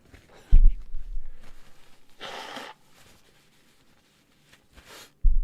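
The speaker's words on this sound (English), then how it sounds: "I got to blow my nose" A person blows their nose in one short, breathy burst, close and moderately loud, with faint rustling and a few soft thumps before and after.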